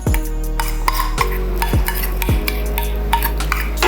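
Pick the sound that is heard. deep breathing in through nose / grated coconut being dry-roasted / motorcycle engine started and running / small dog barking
grated coconut being dry-roasted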